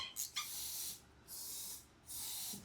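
Penetrating oil sprayed onto stubborn Harley cam chest bolts: a couple of quick hissing puffs, then two long steady sprays separated by a brief pause, close and fairly quiet.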